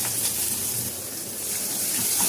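Onion goes into hot oil already seasoned with mustard seeds, asafoetida and curry leaves for a rajma curry, giving a steady bright sizzle and hiss that stays fairly even throughout.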